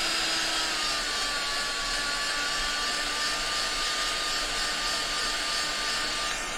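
A hair dryer blows a steady, close whine as it dries wet paint on a mixed media altered canvas. The drone stays constant and alone throughout.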